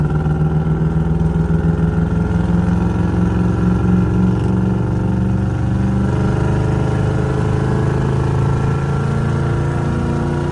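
Lifted Chevrolet Silverado 1500 pickup on 37-inch mud tires, with a big cam and built transmission, accelerating hard in tow haul mode, a loud steady engine roar from inside the cab with rising tone and firm shifts.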